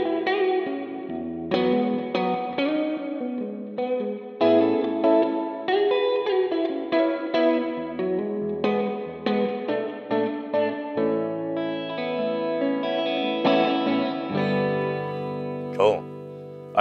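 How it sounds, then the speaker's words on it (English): Electric guitar played through an Audient Sono with a plate reverb while a clean tone is dialed in, chords and notes ringing out with a lush, washy tail, close and fairly loud, with a brief sharp pluck near the end. "it's on this plate reverb we've got"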